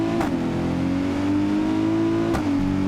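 Sustained engine roar of a car in a driving video game held at full throttle, a steady loud drone with rising pitch and a couple of brief clicks, no talking.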